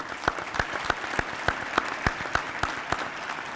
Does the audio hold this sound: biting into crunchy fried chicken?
no